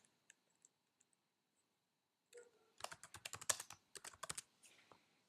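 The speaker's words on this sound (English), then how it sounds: "I'll type my name" Someone types a name on a computer keyboard, a quick close burst of crisp key clicks lasting a couple of seconds, preceded by a few isolated mouse clicks in a quiet room.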